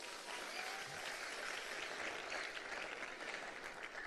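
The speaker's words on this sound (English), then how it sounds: "Give the Lord a clap offering." A church congregation claps steadily as an offering of praise, a dense, even wash of applause from a large room that holds at a moderate level for several seconds with no speech over it.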